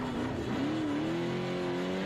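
A rally race car at Kalgoorlie runs its final lap, its engine droning in a long steady note that slowly climbs in pitch as it revs, heard faintly from a distance with no one speaking.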